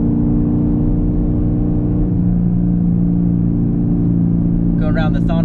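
A 2021 Chevrolet Camaro 2SS 1LE drives around an on-ramp with a steady, loud engine drone and road rumble inside the cabin; a brief voice comes in near the end.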